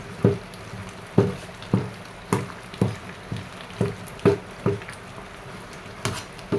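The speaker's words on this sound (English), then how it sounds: "You can either use knife to cut it, or you use iron spoon like this, or stainless spoon like this, and cut it." Water yam pieces being cut with a metal spoon, a series of about a dozen sharp scraping taps at a steady, slightly uneven rhythm, close and fairly quiet.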